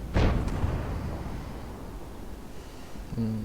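Artillery shell bursting in World of Tanks on the Karelia map, a loud booming blast at the start that fades into rumbling battle ambience, with a faint engine tone near the end.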